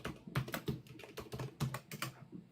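Someone taps quickly on a computer keyboard, producing a close, uneven stream of key clicks with short pauses between bursts.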